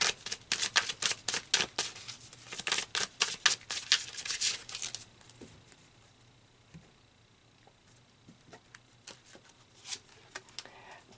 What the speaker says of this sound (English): let's pull some more cards to add on to this message